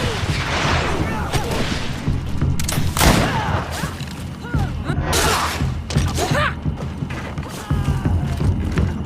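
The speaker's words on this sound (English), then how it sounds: "Watch out! Grenade!" Grenade explosion and gunfire in the video game Greedfall, loud repeated thumping blasts and bursts of shots in a chaotic battle, with shouting voices throughout.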